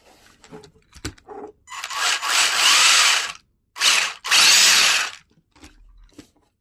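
A brushed electric motor in a Tamiya RC car spins up in bursts on the bench, whirring loudly for a second or two at a time between short pauses and small clicks.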